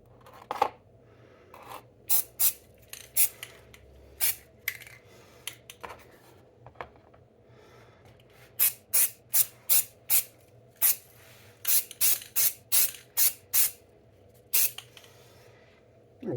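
Paint sprayed from a can onto rifle magazines such as a P-mag in thin coats: a series of short, sharp hissing bursts, sparse at first, then coming in a rapid run of closely spaced sprays over faint background noise.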